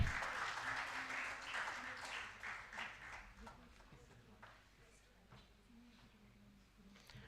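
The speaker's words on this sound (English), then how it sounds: "A huge round of applause once again." A large conference audience at a college in Una, Himachal Pradesh, applauds to honor the convener: dense clapping swells loud at first, then thins and fades over several seconds, with a voice faintly underneath.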